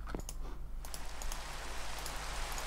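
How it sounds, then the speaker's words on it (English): Steady rain falls in Minecraft Sky Factory 4, a soft continuous hiss with faint scattered patters, low in level and unbroken throughout. "I know, it's raining."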